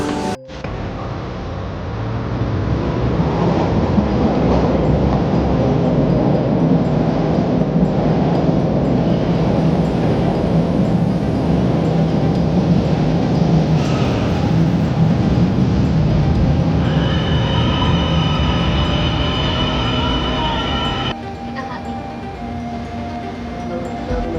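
Steady loud rumble and rolling noise inside a moving LRT light rail train in hot weather, with a rising electric whine near the end as it slows.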